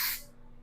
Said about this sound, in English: These are what are considered dry sprays. So when you spray them on, they don't make the hair wet.